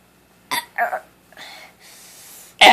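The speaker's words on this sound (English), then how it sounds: "It's called burping your ABC, it's not coughing it." A four-year-old child forces out a few short, rough burps in quick succession, close and fairly loud, with breathy pauses between them and a final sharp burst at the end.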